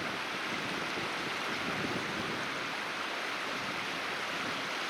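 Spring floodwater flows across flooded ground, a constant, loud broadband rush with no break or change in intensity throughout.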